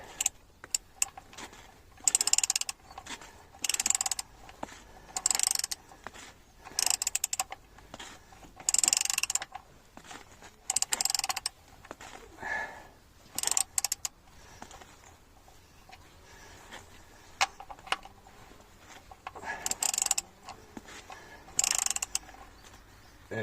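A ratchet clicks in repeated short bursts with pauses between them, close and crisp, while a fitting is tightened during an oil change on a Skoda Octavia MK2 1.6 TDI.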